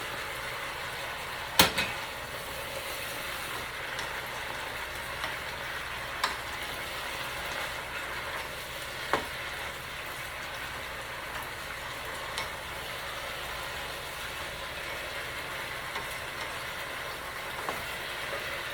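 Pieces of meat for pepper steak sizzle steadily in a hot pan with a continuous crackling hiss, marked by a few sharp utensil clicks and taps spread through it.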